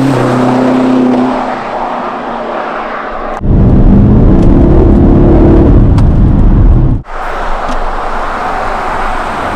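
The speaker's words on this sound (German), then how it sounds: "Dann fahren wir kurz, mache ich kurz so einen Flyby." Lowered BMW X6M Competition SUV driving past in a flyby, a loud broadband engine and road roar that swells into a close pass mid-clip, cuts off briefly, then continues as a steady rumble.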